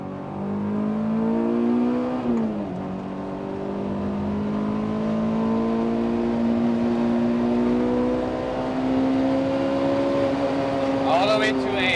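A track-prepped Honda S2000 engine drones with a strong harmonic whine that holds, dips briefly and climbs gradually, then revs quickly higher near the end, steady and fairly loud from inside the car.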